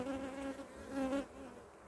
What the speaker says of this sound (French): mis à part quelques abeilles qui me tournent autour